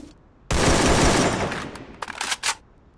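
Gunfire from a skinned gun in the Free Fire mobile shooter game: a sudden loud sustained burst of rapid shots, then a few shorter sharp bursts as it tapers off, with no speech.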